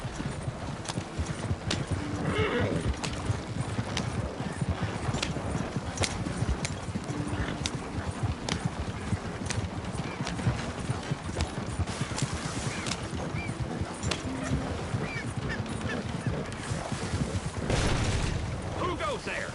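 Hooves of a horse clip-clopping at a gallop in the Red Dead Redemption 2 video game, a brisk continuous rhythm heard close with occasional snorts and a brief spoken voice over the running.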